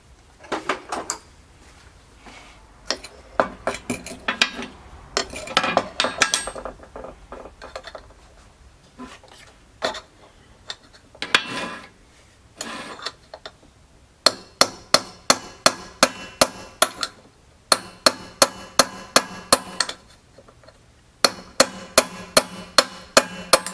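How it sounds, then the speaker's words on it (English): A hammer drives a small punch against a rusted screw on an abandoned 1998 Suzuki quad runner 4x4: an irregular clatter of metal knocks first, then long runs of sharp, evenly spaced taps, close and loud. "See if we can get a hammer and a small punch."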